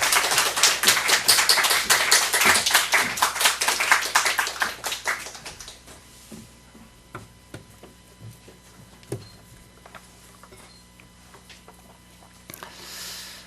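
A church congregation applauds during a Sunday service, a dense burst of close clapping that thins out after several seconds into scattered claps and quiet room noise.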